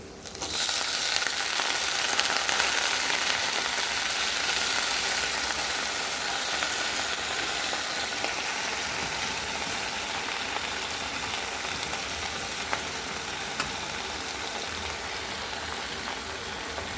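Jute leaves sizzle loudly and steadily in a pan of hot oil with fried onions, a dense, continuous frying hiss that holds close and even throughout with no talk over it.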